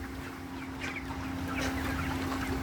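Tiger breed chickens and roosters cluck softly on a farm over a constant low mechanical hum, a few scattered calls with no speech.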